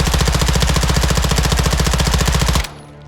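Automatic gunfire from a rifle in Modern Warfare 2, a loud, rapid, steady burst of shots lasting about two and a half seconds before cutting off abruptly into a faint ringing tail.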